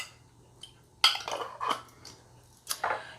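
Capers and their juice spooned into a bowl make a few brief, close clinks and soft wet scrapes of a spoon against the dish, separated by short quiet gaps.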